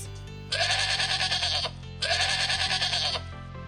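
Two sustained, wavering sheep bleats, close and clear, each lasting over a second, layered over steady background music.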